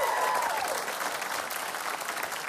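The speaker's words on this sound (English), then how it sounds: "Keep your applause going." A studio audience keeps up close, steady applause throughout, with a brief whistle-like tone at the start.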